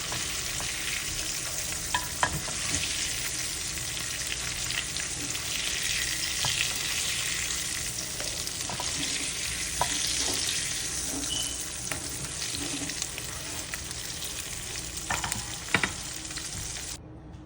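Shrimp frying in hot oil in a pan, giving a loud, continuous sizzle and crackle with occasional sharper pops and light stirring scrapes, with no voices over it.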